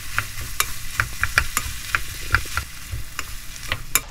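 Spicy squid with vegetables stir-fried in a pan, a steady sizzle broken by repeated scraping and clacking of the utensil as the food is tossed, with no talking.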